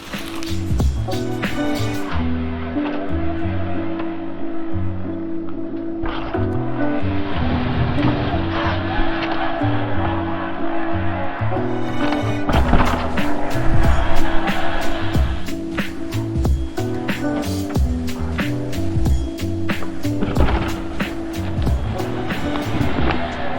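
Toboggan trike rolling downhill, a steady loud rumbling roll of wheels on pavement with rising rhythmic clatter toward the end, continuous and close throughout.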